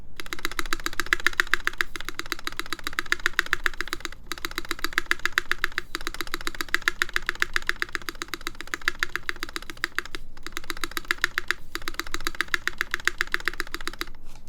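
Rapid, steady clacking of a mechanical keyboard with GMK ABS keycaps, typed continuously up close with only a few brief pauses and no voices.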